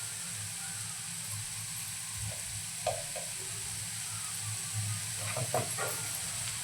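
French beans are stir-fried in a pan, giving a quiet steady sizzle and hiss with occasional scraping stirs of a spoon.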